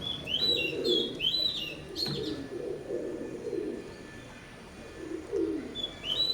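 Oman bloodline teddy pigeons cooing in a close series of soft, low, rounded coos, joined by a few higher bird chirps and whistles, with no talk over them.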